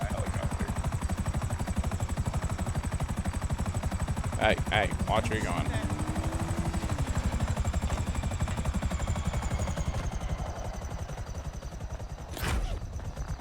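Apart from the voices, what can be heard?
helicopter flying in the video game GTA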